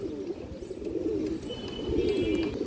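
A male ring-eyed racing pigeon gives repeated soft, rolling coos in a low warble, close by, with faint chirps and background noise.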